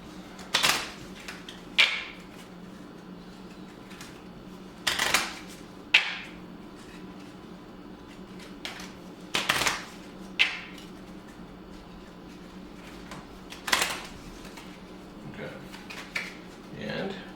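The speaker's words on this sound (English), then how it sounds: "So we're going to shuffle these and put these in." Cards from the Skyrim board game event deck are shuffled by hand, with repeated sharp riffling bursts every couple of seconds between quieter rustling and handling, close to the microphone.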